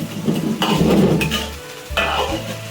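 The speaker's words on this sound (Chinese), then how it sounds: "轻轻推鱼" Fish in a sweet-and-sour braise is nudged around a sizzling wok, loud and close, with bubbling frying noise, a few scraping strokes of the spatula and light metallic clinks against the pan.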